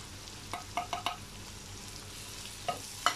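Masala spices (garam masala, coriander, turmeric and chili powder) are stirred into pumpkin in a pan over low flame, with a faint sizzle under several distinct spoon scrapes and clinks, quiet and close, with no talking.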